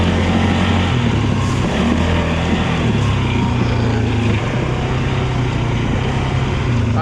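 A Honda four-wheeler ATV engine runs close and loud on a wet ride, its droning note stepping to new pitches as it shifts through the gears.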